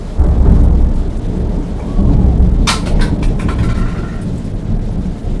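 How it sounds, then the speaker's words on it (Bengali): Thunder rumbles and cracks through heavy rain in a home kitchen during cold weather, a loud sharp crack rolling into a long low rumble over a steady downpour. "এখনো পর্যন্ত বৃষ্টি হয়ে যাচ্ছে, গুড় আওয়াজ হয়ে যাচ্ছে মেঘের।"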